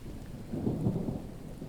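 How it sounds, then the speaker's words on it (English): Steady rain falling in a survival-building video game, a soft continuous low rumble with a gentle swell in the middle, heard alone without speech. "It's raining."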